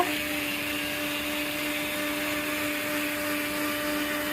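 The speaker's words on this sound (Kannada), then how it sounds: "ಸೊ ಜಾರು ರುಬ್ಕೊಂಡು ಬರೋಣ ಬನ್ನಿ ಎಲ್ಲ ಚೆನ್ನಾಗಿ ಬ್ಲೆಂಡ್ ಆಗ್ತದೆ" Mixer grinder blending banana stem with curd, cumin, asafoetida and salt, a loud, steady motor whine running close and unbroken throughout, with no voices.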